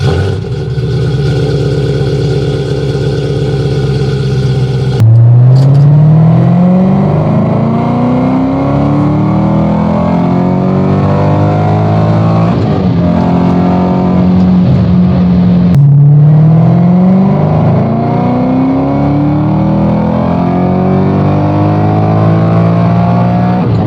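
An Audi B6 S4 with a VF Engineering engine accelerates hard through several gears, each pull a rising engine note broken by sharp shift drops, loud and close from inside the car.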